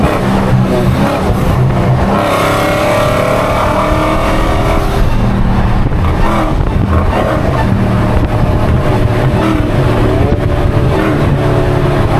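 A Dodge Hellcat engine revs and accelerates hard on a wet road in traffic, a loud, close, continuous roar with rising pitch sweeps as it climbs through the gears.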